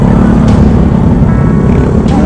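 Motorcycles riding along a newly built, not yet opened ring road by the Kali Gangsa bridge between Tegal and Brebes, heard as a loud, steady engine drone and road rumble filling the whole stretch, with no talk.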